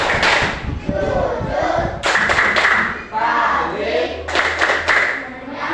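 A group of children claps rhythmically in loud bursts while chanting an Islamic lesson rhyme on the required attributes of the Prophet in class, voices reciting along with the claps.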